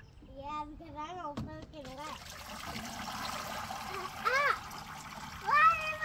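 Water splashing and trickling at a children's outdoor water table, light intermittent splashes close by while a young child and an adult talk over it.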